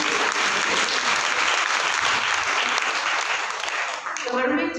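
Sustained audience applause filling the room at a steady, dense level, loud and close, fading slightly near the end as a voice returns.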